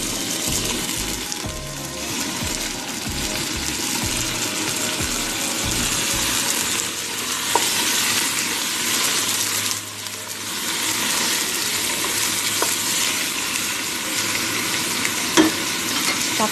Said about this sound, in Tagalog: isunod ko na rin yung ating chicken